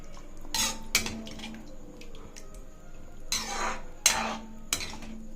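Several metallic clanks and clinks of a plate being set and shifted on a pan of potato chutney, sharp knocks in two clusters separated by a quiet gap.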